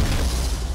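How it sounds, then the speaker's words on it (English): A dragon launching a fireball in Dragon Age Inquisition: a short, loud, low rumbling whoosh that roars steadily for under a second with no voices. "He's gonna shoot a fireball at me."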